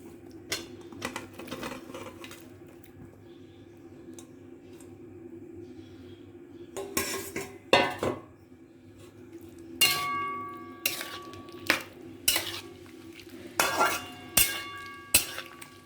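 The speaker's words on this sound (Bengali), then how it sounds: "এরপর আমরা আলু আর পনিরগুলোকে দিয়ে দেব।" Potatoes and paneer go into a pan for a Bengali vegetarian aloo paneer curry, producing a series of clinks and scraping knocks that come in irregular bursts over a quiet background, growing more frequent toward the end.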